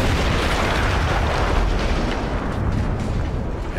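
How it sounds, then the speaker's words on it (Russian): A heavy, rumbling explosion from the video game Battlefield 1 roars continuously, a dense booming blast with crackling debris, loud and close, with no voices. "Этот взрыв был для меня одним из лучших зрелищ на войне"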